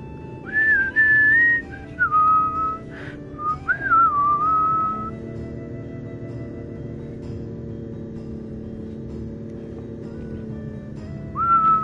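A person whistles a melody along to Final Fantasy game music, clear, close, pitched phrases with slides and pauses over a steady low backing of music and ambient hum, then a final short phrase near the end.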